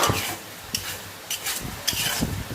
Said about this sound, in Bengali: দেখুন কীভাবে চাল তৈরি করছে